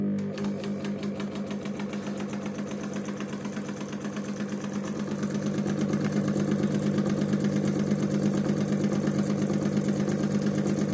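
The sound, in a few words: Einhell TC-SS 405E scroll saw running at lowest speed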